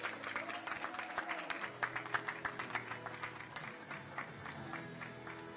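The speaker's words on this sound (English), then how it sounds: "We will welcome, with your applause please" Audience applause rings out at the Suzuka podium ceremony for the Blancpain GT World Challenge Asia Race 2, a dense, steady patter of many hands clapping with a few sharper claps standing out, sustained throughout at moderate volume.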